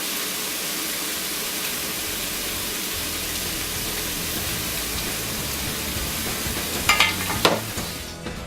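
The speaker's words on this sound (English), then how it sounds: "We are going to reduce the balsamic vinegar and wine on a simmer for about 3 minutes" Balsamic vinegar and wine simmer in a pan with a steady, even bubbling hiss throughout, and a couple of louder clatters near the end.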